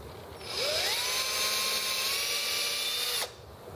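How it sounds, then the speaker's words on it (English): A handheld drill spins up nearby with a rising whine, runs at a steady high pitch for about three seconds, then stops abruptly, with no talking over it. "so that I have clearance for the drill chuck when I do this"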